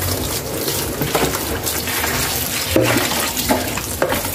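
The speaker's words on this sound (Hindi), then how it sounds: "अब ये जो पानी है इसको हम फेंक देंगे" Muddy rinse water from washing spinach splashes and gurgles as it is poured out of a bowl, a continuous wet rush with a few small splashy bursts nearby.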